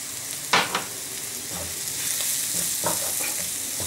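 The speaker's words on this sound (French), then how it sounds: "Là, on remue bien." Onions with paprika frying in a pan, a soft continuous sizzle broken by a few sharp scrapes and knocks of a utensil stirring, close and alone without talk.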